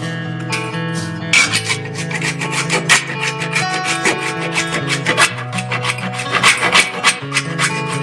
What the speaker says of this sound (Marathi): थोडस जायफळ किसून टाकते